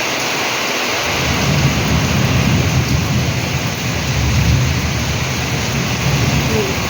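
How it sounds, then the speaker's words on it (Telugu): Heavy rain pours down loudly and steadily in a thunderstorm, a dense close roar with deep low rumbling, while a voice speaks faintly in the background. "సౌండ్ తింటేనే తెలుస్తుంది అంత గట్టిగా వస్తుంది వర్షం"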